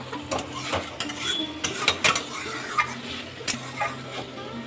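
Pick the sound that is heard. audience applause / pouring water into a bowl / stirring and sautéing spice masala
stirring and sautéing spice masala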